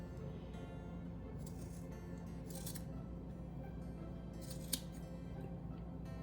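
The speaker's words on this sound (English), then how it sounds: "Now I'm going to trim them off pretty much at their longest length." Scissors snip through macrame cords to trim a hanging American flag piece, a few crisp, faint cuts spaced apart over a quiet room background, with no talk.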